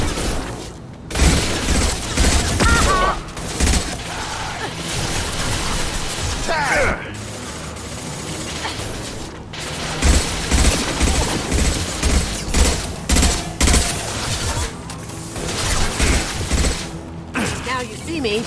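Automatic gunfire and mechanical clatter fill a fast-paced video game firefight, with bursts and booms running almost nonstop over a dense, loud backdrop of game sound and occasional in-game voices.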